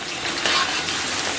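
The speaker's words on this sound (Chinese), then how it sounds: "小火咱们给它煸炒一下，炒出红油，炒香" Pixian chili bean paste and chili sauce sizzle in hot oil with scallion and ginger in a wok over low heat, a steady close hiss of frying with no pauses.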